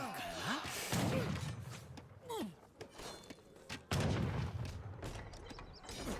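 Town center gunfire in an Age of Empires battle involving Japan, pikemen and militia cracks in repeated thumping volleys amid clashing battle noise and sharp in-game effects.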